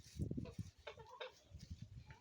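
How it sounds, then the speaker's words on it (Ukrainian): Chickens cluck in short bursts in a village garden, with other farmyard birds such as turkeys and geese and faint background noise around them. "І курочки прийшли помогти."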